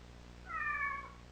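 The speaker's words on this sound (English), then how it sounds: "It's a cat." A single cat meow rises and falls in one clear, short call at moderate distance over a quiet, steady background hum.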